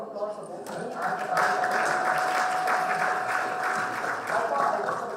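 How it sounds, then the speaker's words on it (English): A conference audience applauds in a large hall, a broad steady wash of clapping that rises after the first second and holds to the end, with a faint voice and a tonal hum underneath. "can I just have a round of applause for both me and the fan?"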